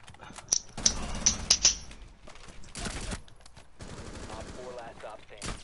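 Gunshots in a video game ring out as a quick burst of about six sharp cracks in the first two seconds, followed by quieter clattering and low background noise.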